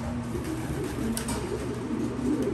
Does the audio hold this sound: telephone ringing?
no